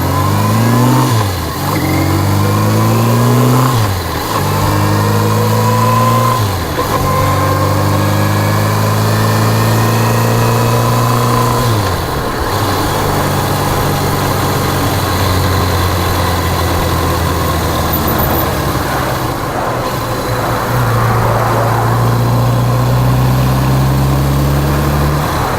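A motorcycle engine on a road trip through Indiana runs loud and close, repeatedly revving up through rising pitch sweeps, dropping back and climbing again in steady cycles for the whole stretch.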